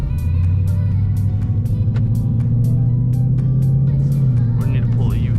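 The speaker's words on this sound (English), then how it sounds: "This car gets loud when it's in the city" A Ford Mustang GT cruises through the city before dawn, its engine holding a steady, deep rumble from inside the cabin, with faint ticks and small shifts in pitch but no sharp revving.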